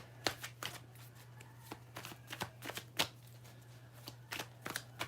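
Rider-Waite tarot cards are shuffled by hand in a quiet room, giving a string of sharp, papery riffling bursts spaced irregularly over a steady low hum, fairly soft and close.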